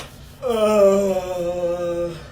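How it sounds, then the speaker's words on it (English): A person lets out a big, drawn-out yawn, a rising voiced groan that slowly falls away over about two seconds, close and loud against a quiet room. "You got a big ass yawn for the news."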